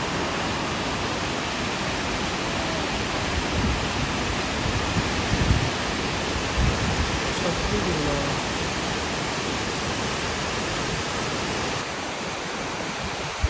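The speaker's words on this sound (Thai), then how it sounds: "ได้ยินเสียงน้ำตกกันแล้วใช่ไหมคะ" A waterfall near Fuji, Japan roars continuously, a dense rushing wash of water filling the whole stretch at steady loudness.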